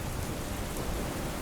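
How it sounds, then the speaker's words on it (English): Rain pelting steadily against window glass, a dense, even hiss of drops with no pauses or voices, moderately loud and close. "Rain softly pelted the window's glass."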